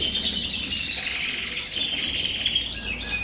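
Caged pet birds chirp and tweet in a bird room of purpose-built cages, a busy chorus of bright overlapping calls at moderate volume with no talking.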